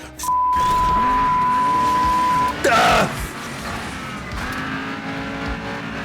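Car engine roars at steady pitch in the Asphalt 9 racing game on Android, then a brief loud crash with tire squeal cuts in before the engine settles back to a lower drone, with a voice yelling briefly.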